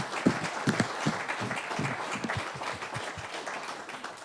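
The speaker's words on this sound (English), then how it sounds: "Can we have a round of applause for Patrice and Inga?" Audience applause at a church gathering: dense, steady clapping from a crowd, fairly close and lasting throughout, slowly tapering toward the end.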